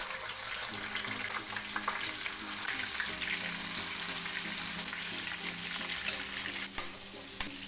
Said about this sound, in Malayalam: വെളിച്ചെണ്ണ ചൂടായിട്ടുണ്ട്. ഓരോ കാട നമുക്ക് ഇതിലേക്ക് ഇട്ട് കൊടുക്കാം.